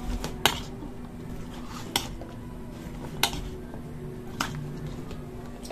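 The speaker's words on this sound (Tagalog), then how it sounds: "Haluin muna natin." Bitter gourd salad stirred in a bowl, with a few sharp utensil clinks against the bowl spaced over a soft background of mixing.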